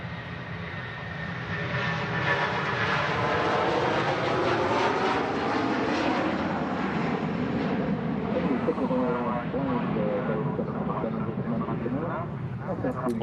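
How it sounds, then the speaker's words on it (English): A 31-year-old Jet2 Boeing 757 passes at Manchester Airport, its loud jet engine roar swelling and holding steady for over ten seconds, close and continuous. "There goes a Jet2 757."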